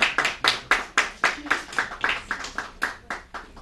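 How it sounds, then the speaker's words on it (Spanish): A small group claps at a mathematics magic show, the claps coming in a clear, fairly regular rhythm of distinct beats, close and moderately loud. "denles un aplauso"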